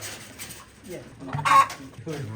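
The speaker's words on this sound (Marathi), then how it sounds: "हा एक फायटर कोंबडा तिथे पण दोन तीन फायटर कोंबड्या आहेत" Fighter roosters on a farm cluck in short, uneven bursts at close range, with one louder squawk in the middle.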